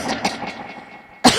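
A storyteller vocally imitates an old Brahmin coughing badly, giving a few rough, hoarse coughs and throat sounds, with a sharp louder cough burst near the end.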